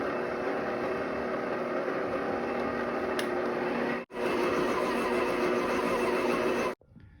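A stand mixer works pastry dough with a loud, steady motor drone and a faint whine, broken by a brief dip partway through, before it cuts off abruptly near the end.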